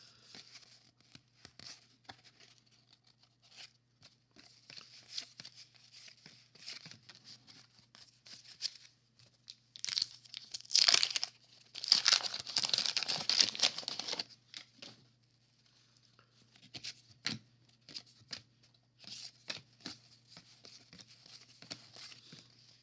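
Packs from a box of 1991 Fleer baseball cards being torn open, with quiet crinkling of wrappers and soft card shuffling, then a louder burst of tearing and crumpling midway, mostly faint and close.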